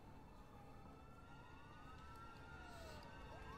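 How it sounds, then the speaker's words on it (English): Police sirens wail in the video game A Way Out, faint and distant with rising and falling tones sweeping over a dense low rumble of game ambience. "Sirens."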